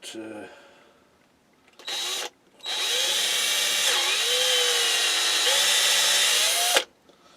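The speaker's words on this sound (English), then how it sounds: "wood bit in my drill" A power drill with a 6mm wood bit whirs in a short burst, then runs steadily for several seconds at a high, whining pitch that dips briefly as the bit bites into wood.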